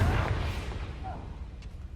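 A Confringo blasting spell explodes in a fantasy video game, opening with a loud low boom that decays into a rumbling tail and fades over about two seconds, with a faint tonal chirp near the end.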